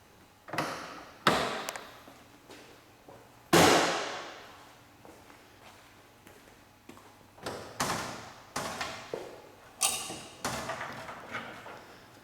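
A 1955 Lancia Aurelia B24S Spider America's hood being released and lifted, a series of sharp metallic clunks, thumps and clicks at irregular intervals, fairly close, with one louder bang partway through.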